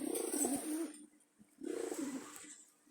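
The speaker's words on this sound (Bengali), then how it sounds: "এই যে মাদি কবুতরটা" A small female Jalali pigeon cooing close by: two soft, throaty coo phrases with a short pause between them, clear and alone.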